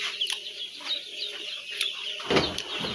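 Ducks at a market giving short, scattered quacks and clucking calls, fairly close, over a low background of market bustle.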